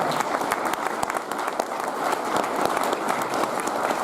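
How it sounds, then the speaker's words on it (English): An audience claps at a veterans' welcome-home event, a sustained burst of dense, close applause with sharp individual claps throughout and little talk. "Give a big round of applause for that"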